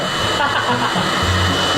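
A hair blow dryer running at a barbershop, a continuous loud whooshing motor drone with a slight shift in pitch partway through, close to the microphone with faint voices underneath.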